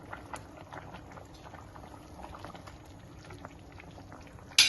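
Rice and lentil mixture for arisi paruppu sadam boiling in a pot with small onions added, a steady close bubbling simmer with scattered pops, no talking, ending in a brief louder clatter.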